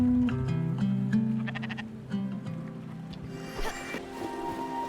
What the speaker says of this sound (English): Let's feed the sheep.